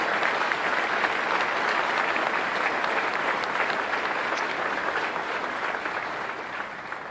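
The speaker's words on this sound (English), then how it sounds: "Let's give them a round of applause." A large audience at a city's State of the City address in Milwaukee breaks into sustained applause, a dense, steady wash of clapping that stays loud throughout and eases slightly near the end.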